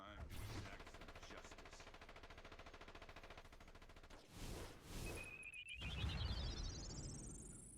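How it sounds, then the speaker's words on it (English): A Batman ally in DC Universe Online fires rapid bursts of gunfire, a steady stream of loud automatic shots that breaks off into thumps and a rising whistling sweep, like a thrown bomb or a departing effect. "in the case of Batman, as you saw, he fires his gun, throws some bombs, and then get out of here"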